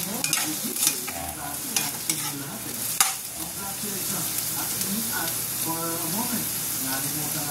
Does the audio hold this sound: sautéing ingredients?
yes